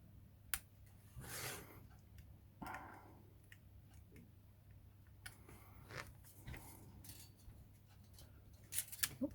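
Scissors trim a leftover tab on a Bandai 1/72 Millennium Falcon plastic model kit, a few sharp close snips and clicks spread out over a quiet background.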